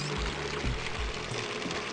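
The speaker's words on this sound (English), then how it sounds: "Maybe I can use the shower here to fill the bucket with hot water" Shower water pouring into a bucket in Zero Escape 999: a steady close splashing pour with gurgling, bubbling low tones filling the short stretch, no talking.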